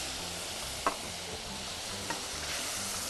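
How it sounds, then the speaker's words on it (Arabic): A pan of milk-based white sauce with ground meat, for a kofta dish, is stirred under a steady low sizzle, with two short spoon scrapes standing out near the start and middle. "وهبدا اقلبه كده"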